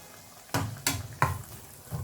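Paprika and green chilies fry in a pan under a low sizzle. Three sharp stirring scrapes against the pan come at roughly even intervals, and a fourth starts at the end, all close and clear with no talk.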